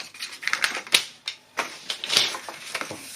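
Scissors cutting through a 12 x 6 inch sheet of paper for a homemade gift bag: a few sharp, crisp snips spread over three seconds, close and alone with no talking.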